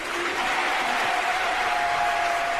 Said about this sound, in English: We gonna give them a good round of applause.